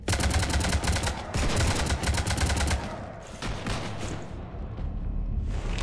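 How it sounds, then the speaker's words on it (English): Gunfire in Mass Effect 3 rattles off as fast, loud automatic bursts of evenly spaced shots, broken by a short pause, then trails into a scattered, slightly quieter volley. "You want to stop shooting up my ship?"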